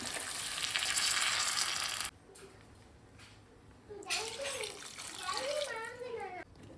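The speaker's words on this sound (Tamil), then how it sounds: "இது கூடவே கொஞ்சம் புளி தண்ணி வந்து சேர்த்திக்கலாம்." Tamarind water is poured into a pan of frying drumstick, potato and brinjal: a loud rushing sizzle stops abruptly, goes quiet, then bubbling returns with a voice talking over it.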